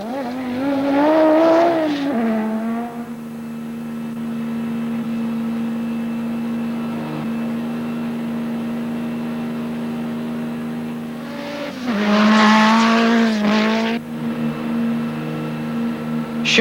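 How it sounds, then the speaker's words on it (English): Group B rally cars, including a Peugeot 205 T16 Evolution, Ford RS200 and Mazda RX-7, race up Pikes Peak: loud engine revving, a long steady drone as a car holds speed, then another hard rising burst of acceleration. "Scheckter is doing well in his 205 Evolution, just keeping up with Wilson in the Ford RS200 and Millen in a Mazda RX-7."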